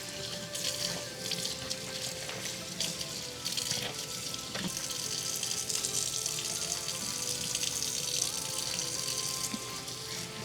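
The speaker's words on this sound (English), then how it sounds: "I'm going to rinse this out" Water runs steadily from a tap while shampoo is rinsed out of deep curly clip-in hair extensions, a continuous close splashing gush with no speech.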